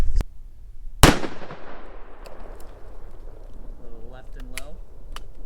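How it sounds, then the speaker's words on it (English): A gunshot is fired at a padlock, one loud, sharp crack near the listener that rings out and fades, with a short pop just before it and a voice speaking briefly afterward. "I'm gonna let Nate take this shot because there's no way I'll be able to hit it"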